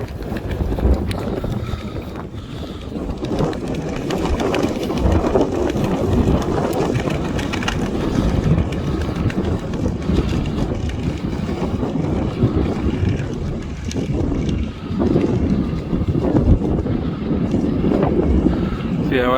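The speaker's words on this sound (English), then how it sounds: "Hopefully you can hear me okay, because it is really windy." Strong wind buffets a microphone out in a field during muck spreading before rain, a constant rough rumble with gusts. Someone talks through much of it.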